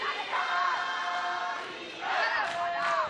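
Spectators at a junior world taekwondo championship semifinal in the girls' +58 kg class roar and chant in waves, with Iranian supporters swelling loudly twice in a dense, echoing arena crowd.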